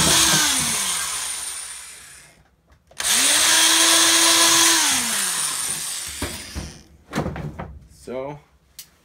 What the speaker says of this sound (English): Now you're gonna drill through the hole.